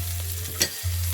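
A burger, its meat mixed with crumbled saltine crackers, fries in a hot pan, giving a steady close sizzle over a low hum, broken by one brief clink partway through.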